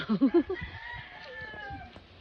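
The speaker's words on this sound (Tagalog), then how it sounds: "dami kong manok ko." Chickens on a mini farm in Quezon City: a few quick, close clucks open, followed by a long drawn-out crow, with faint background farm noise.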